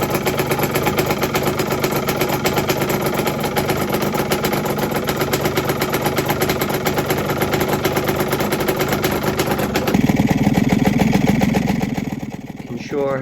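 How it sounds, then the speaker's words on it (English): Aprilia RS 125 two-stroke motorcycle idling on temporary premix, a loud, close, rapid buzzing rattle that holds steady, then swells briefly and dips near the end. "Bike idling on your temporary premix"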